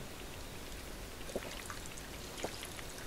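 Drinking water in the video game Fallout 4, a steady quiet trickling, pouring wash with a couple of faint gulp-like blips, continuous throughout with no speech.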